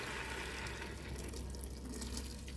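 Water gushes steadily into a soup pot of carrots, a brief, soft, continuous flow with no speech.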